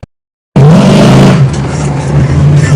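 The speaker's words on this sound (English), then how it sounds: "enjoying the sound and feel of his second big horsepower Dodge Charger" Engine of a 1969 Dodge Charger with an 8-71 supercharger bursts in loud and close after a half-second of silence, a deep, heavy rumble that holds steady with slight wavering.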